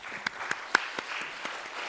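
A symposium audience claps for a speaker, with a few sharp claps standing out over a thin, quiet patter of scattered applause that lasts under two seconds.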